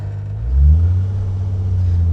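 A four-door AMC Rambler rated at 125 horsepower revs its engine up, a deep low rumble that swells and then settles into a steady, close, sustained drone with no talking.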